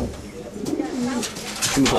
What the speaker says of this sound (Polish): Widać gołębie fantastycznej jakości, widać gołębie fantastycznej kondycji.